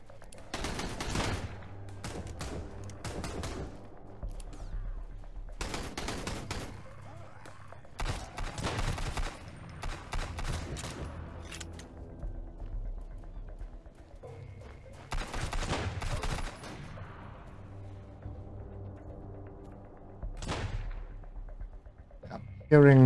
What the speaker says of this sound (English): I'm hearing bangs.